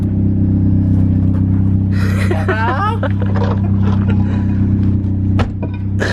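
A tow truck's engine idles loudly and steadily in a deep, droning rumble, with a brief squeak and a clunk over the top near the end.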